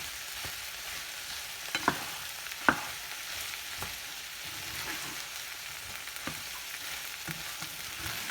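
Okra and shrimp with sage cooking down in a pan, a soft continuous sizzle broken by a few sharp clicks of a spoon against the pan.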